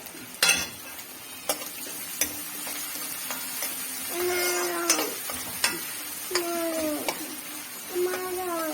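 Ginger sizzles in hot oil in a pan for a mango and carrot pickle, with sharp clinks and scrapes as a spoon stirs it. A person talks now and then over the steady frying.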